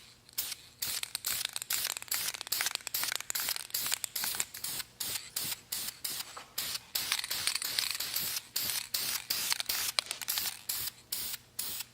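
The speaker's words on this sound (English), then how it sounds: "we're still going to spray some clear coat on it" A shaken aerosol can sprays clear coat onto brake calipers in rapid repeated hissing bursts, each short spritz separated by brief gaps, close and steady throughout with no talking.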